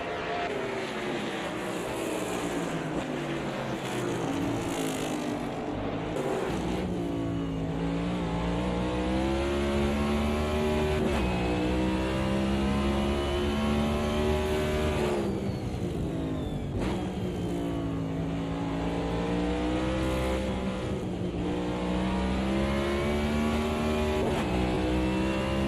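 Race cars in the Can-Am SimSport racing game roar continuously at a Cleveland GP round of the CASSCAR Roadmaster Series. Engine pitch rises and falls with gear changes, loud and sustained throughout.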